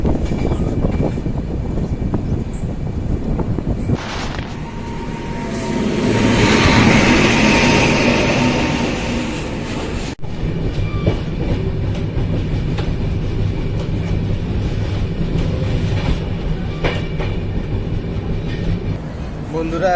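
The Jammu Tawi Express, train 13151, runs along the rails at speed, with a loud continuous rumble and rhythmic wheel clatter heard from inside. A brief swell of rushing noise passes midway, and a voice speaks over it.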